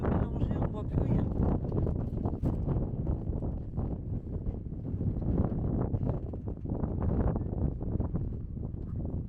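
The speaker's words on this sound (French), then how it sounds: "Il y a tellement de vent que ça nous fait une tempête de poussière" Strong gusting wind in a dust and sand storm in Death Valley roars and buffets the microphone continuously, a dense, rough rumble that rises and falls throughout.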